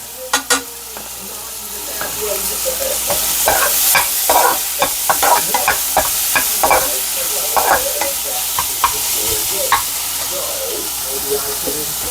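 Ginger and green chili fry in a pan for spicy okra, giving a loud, crackling sizzle. Frequent clattering scrapes of a spoon stirring run through it, with no voices.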